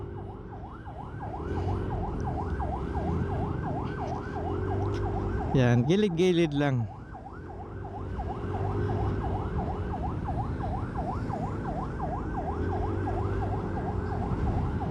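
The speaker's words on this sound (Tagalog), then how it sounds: "susunod tayo dito sa ambulansya" An ambulance siren wails in city traffic from a motorcycle riding just behind it, the rising-falling tone cycling loudly and steadily. A sharp horn blast cuts in midway, over road rumble, and someone speaks briefly.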